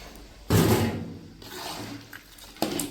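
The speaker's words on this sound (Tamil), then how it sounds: "ஒரு ஒரு லிட்டர் தண்ணி ஊற்றிடலாம்" Water goes into a pot of cooking country chicken uppu kari in two close, rushing pours: a loud splashing gush that fades, then a second burst near the end.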